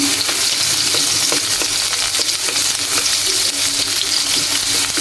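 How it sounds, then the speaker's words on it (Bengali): Onions sizzling loudly and steadily in hot oil for a bean and new potato mash, a close, continuous hiss with occasional stirring scrapes throughout. "এখন পেঁয়াজটা হালকা ভেজে নেব বেশি না একটু হালকা ভেজে নেব পেঁয়াজটা"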